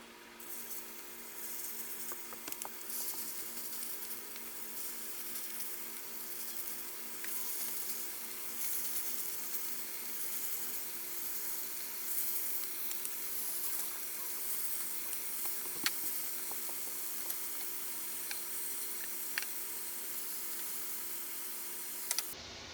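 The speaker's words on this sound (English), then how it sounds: "I'm going to go ahead and get my meat in the pan and get that frying." Beef sizzles and fries in hot oil in a heated pan for gluten-free Mandarin beef teriyaki, a steady, even hiss throughout with a few faint scrapes and clicks, no talking.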